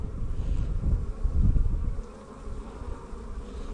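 Honey bees buzz steadily around an opened hive box during a spring inspection after the colony was moved for summer, a dense close hum swelling loudest mid-way then settling to a softer drone, with no voices.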